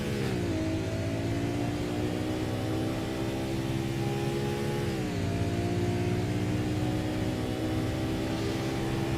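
Race car engines from the GP Simsports GTC 60s racing game drone loudly and continuously, holding a steady pitch with one brief drop as a gear changes, and no voices come through.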